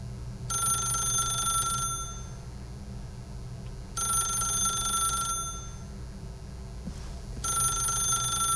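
An electronic telephone rings in the video game The Stanley Parable, three long trilling bursts with pauses between them over a low hum of background music, no voices.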